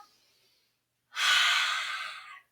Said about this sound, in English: Big breath in, rise up.